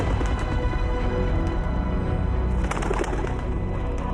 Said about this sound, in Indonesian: Kamu datang lagi. Apa yang kamu inginkan, burung candi?